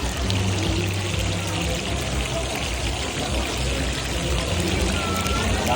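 Sauce poured over grilled salmon at a Thai street food stall, a steady continuous liquid pour with a wet trickling texture running throughout, set against a busy outdoor background hum.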